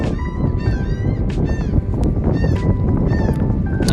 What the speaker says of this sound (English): Those seagulls really want something from us.